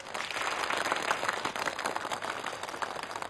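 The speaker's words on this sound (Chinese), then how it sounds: "大家掌声欢迎他们。" Applause welcoming three board members at a company Christmas Eve gathering of executives, a moderate, fairly even patter of many hands clapping at some distance, sustained throughout without speech over it.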